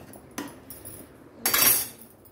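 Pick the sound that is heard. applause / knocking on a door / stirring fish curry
stirring fish curry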